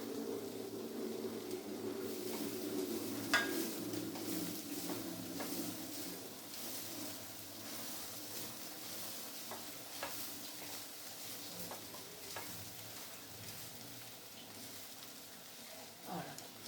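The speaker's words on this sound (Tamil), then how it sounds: "இப்போது இதில் சாதத்தை கொட்டி கிளற வேண்டியதுதான்" Cooked rice mixed with amla is stirred through a pan, with a soft steady sizzle under scraping spoon strokes and small clinks, fairly faint and continuous.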